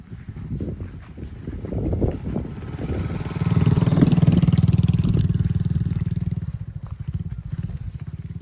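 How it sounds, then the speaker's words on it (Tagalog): A motorcycle engine rumbles close by on a trekking route to Calaguas, swelling louder mid-clip as it passes, then fading slightly, with some faint background noise. "Nakadaan din pala yung motor dito."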